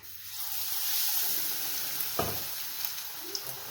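Spinach leaves hiss and crackle steadily as they fry in hot oil, with a sharp clack of a utensil against the pan midway and small pops toward the end.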